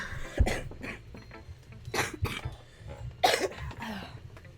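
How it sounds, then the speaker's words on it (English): A person coughs in several separate harsh bursts, close and fairly loud, with quieter throat noises and pauses between them. "my coughs are bad"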